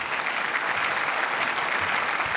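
Steady applause from a large audience at the Maharashtra Maritime Summit after a minister's speech, dense and continuous clapping at an even level throughout with no voices.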